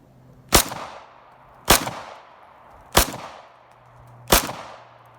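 Four loud, sharp Glock 17 pistol shots with a changed recoil spring, spaced roughly a second apart at an outdoor range, each crack ringing out with a short decaying tail and no talk between them.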